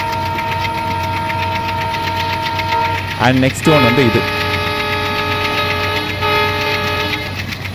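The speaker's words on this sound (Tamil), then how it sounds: "உங்களுக்கு இதில் எந்த ஹாங்க் பிடிச்சிருக்கு அப்படின்னு வந்து அதையும் சொல்லுங்க" Horn of the Howrah-New Delhi Rajdhani Express (12301) in Train Simulator, a loud sustained multi-tone blast that runs through the clip over running-train noise, with someone briefly speaking in the middle.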